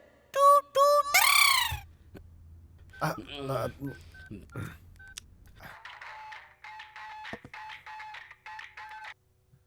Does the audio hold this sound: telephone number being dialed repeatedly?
yes